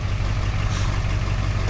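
A Duramax diesel pickup idles with a deep, steady low rumble and even throb, close and loud without a break, with no voices over it.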